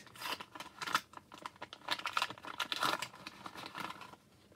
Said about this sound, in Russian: Да, пакетики получились очень прикольные, потому что они шуршащие.